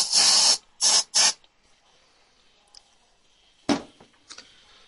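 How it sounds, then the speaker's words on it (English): Three hissing bursts of fly spray from an aerosol can, one long and two short, followed by quiet and a later single short hiss. "get your fly spray"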